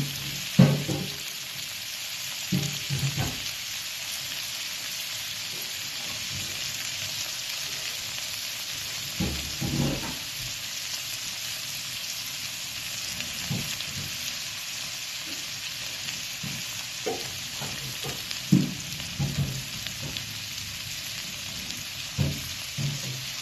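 Shrimp frying in oyster sauce, with a steady background sizzle and occasional soft knocks as it gets mixed in the pan.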